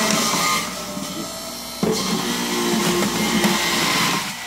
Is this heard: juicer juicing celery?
yes